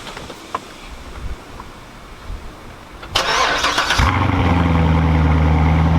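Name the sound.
supercharged C7 Corvette engine starting and running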